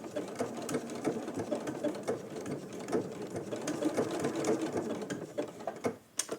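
A sewing machine runs steadily while stitching raw edge applique, its rapid needle chatter continuous and close for most of the stretch before easing off briefly near the end.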